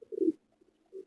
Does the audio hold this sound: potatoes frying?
no